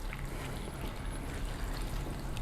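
Water poured into a pot of urad dal with garlic and ginger paste, a steady rushing, gurgling pour heard close up and continuous, with no talking.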